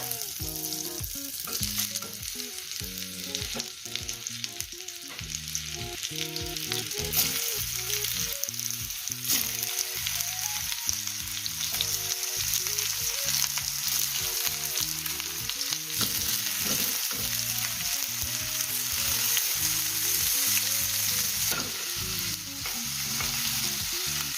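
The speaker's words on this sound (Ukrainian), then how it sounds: "На маслі будемо підсмажувати грушу." Pear pieces frying in butter in a pan give a steady, close sizzle throughout, with repeated stirring and scraping sounds in a regular rhythm and no talking.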